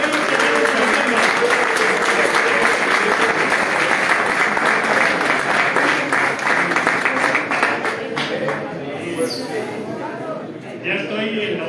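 A large audience keeps up loud, dense clapping at a homebrew beer competition awards ceremony. It holds steady for several seconds, then thins out and fades slightly toward the end.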